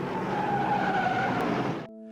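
A NASCAR race car spinning out on track produces a loud, continuous broadband tire skid with a whining squeal that holds for nearly two seconds before dropping away abruptly, leaving a low steady tonal hum.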